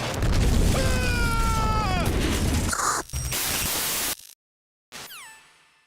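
A large in-game explosion in Metal Gear Solid 2 roars as a loud, dense burst of noise lasting several seconds, with harmonic tones sliding downward through it, then a cut to silence and a brief final burst that fades out.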